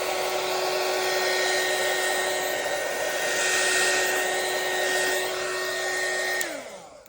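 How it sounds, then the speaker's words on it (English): A heat gun blows steadily on alcohol ink over a ceramic coaster blank, a loud, constant whooshing roar with a high electric whine that holds for several seconds, then cuts off and winds down. "You can use the heat gun."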